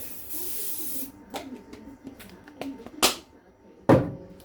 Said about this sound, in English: I'm going to just spray that tray a little bit with oil